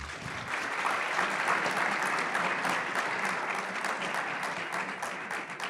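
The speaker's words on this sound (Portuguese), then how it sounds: "Por favor, gente, uma salva de palmas." Steady applause from a conference audience at a Brazilian economics summit, continuous clapping at moderate volume with no talking over it.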